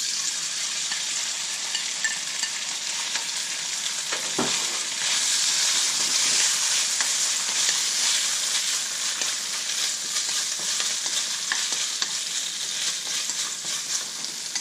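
Beef stir-frying in a little oil in a hot pan for broccoli beef, a loud continuous sizzle with scraping stirs throughout.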